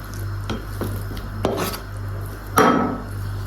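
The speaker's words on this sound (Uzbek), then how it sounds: "Birinchi navbatda go'shtimizni mayda qilib to'g'rab olamiz." A knife taps and scrapes against a cutting board as meat is cut finely for bibimbap, a few sparse knocks with one sharper strike, close up over a low steady hum.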